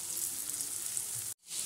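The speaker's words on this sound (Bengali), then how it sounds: "এটা একটু ভেজে নেব।" Fish head seasoned with salt and turmeric frying in hot oil, a steady close bright sizzle that cuts out briefly before resuming.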